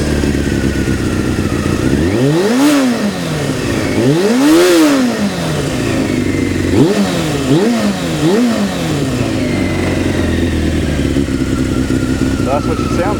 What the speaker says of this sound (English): She's going to rev a little high for a second.